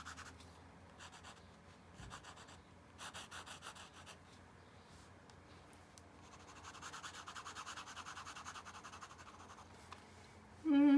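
A pencil scratches and rubs across rough mixed media paper in quick, steady strokes, soft and close, with a louder knock at the very end.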